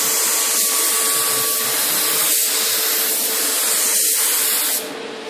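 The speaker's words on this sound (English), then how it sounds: "Then we get the activator, spray it over the top of the film." Activator sprayed in a steady, continuous hiss over hydrographic film floating on water while dipping a fish finder, close and even for about five seconds before easing off slightly at the end.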